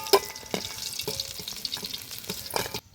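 Koi fish frying in oil in a pan, a close continuous sizzle broken by sharp crackles and pops as pieces are turned and stirred, with no voices.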